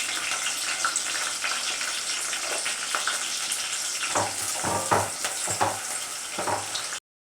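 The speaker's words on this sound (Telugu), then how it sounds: "ఉల్లిపాయలు కొంచెం వేగినాయి." Onions and green chillies frying in hot oil in a pan for a chicken curry, a steady close sizzle with a few clicks of stirring toward the end.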